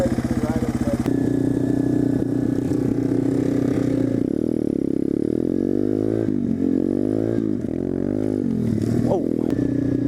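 Yamaha motorcycle ridden across an open field, its engine droning steadily and loud with shifting pitch as it revs and eases, plus some clatter from the terrain.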